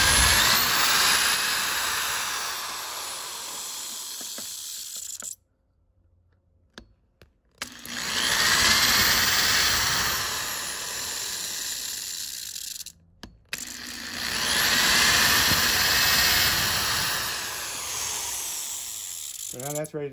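A power tool cuts out a piece of wood, a loud, harsh whining roar held in three long stretches separated by brief pauses, close by, with no talking.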